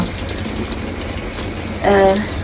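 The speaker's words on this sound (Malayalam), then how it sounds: "ഞാനിതങ്ങോട്ട് നനച്ചു കൊടുക്കുകയാണ് കേട്ടോ" Water pours and splashes steadily onto plants, with a voice briefly speaking over it near the end.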